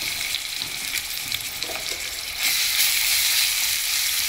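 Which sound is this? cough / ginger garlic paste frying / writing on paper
ginger garlic paste frying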